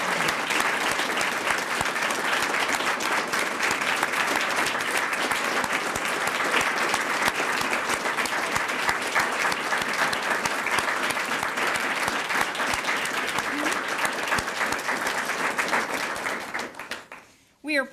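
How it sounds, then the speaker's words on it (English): At a 2012 distinguished awards ceremony, a large audience gives the honorees one long, dense round of applause, steady and loud for many seconds before tapering off abruptly. "honor you as an entire group with one gigantic round of applause"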